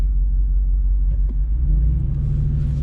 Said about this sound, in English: First off, the exhaust is actually insanely loud, which is quite surprising.